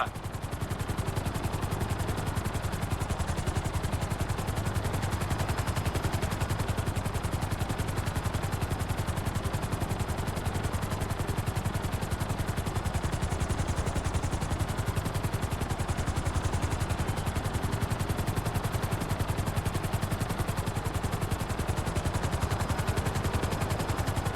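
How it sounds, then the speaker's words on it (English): Gunfire from a helicopter in GTA V, a continuous dense rattle of rapid shots layered over the steady thrum of rotor noise, loud and unbroken throughout. "Hover above so I can shoot down into it."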